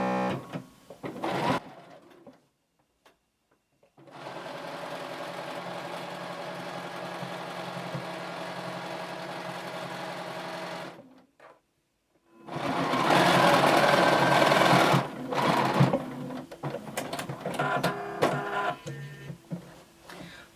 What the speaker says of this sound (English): sew one straight stitch all the way down the length of our scarf